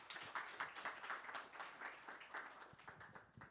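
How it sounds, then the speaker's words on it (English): Audience applause at an open source AI summit, a steady patter of many hands clapping that sounds distant and quiet, lasting a few seconds. "Give a big round of applause for Lukasz."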